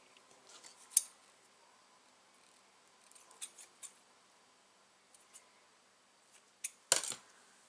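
Scissors trim small paper pieces for card making with nesting dies, giving faint, sparse snips and light paper rustles in a quiet room, ending in one sharper cut.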